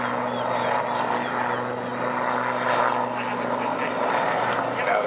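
A Sea King helicopter flies at the Eastbourne airshow, its steady rotor and engine drone filling the air at a moderate distance beneath an announcer's commentary.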